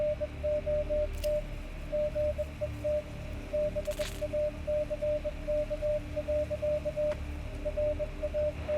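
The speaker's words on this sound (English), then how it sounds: "Small speakers chirp a series of spasmodic beeps amidst a sea of static." In the Wasteland 2 video game, small speakers chirp rapid, Morse-like pulsed beeps over a steady hiss of radio static, repeating in irregular bursts with a few brief clicks, and no voices.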